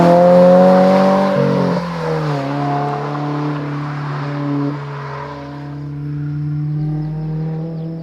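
Toyota GR86 with an MBRP dual-exit axle-back exhaust, a loud, close flat-four drone that revs and then settles into a steady, throaty idle-like hum.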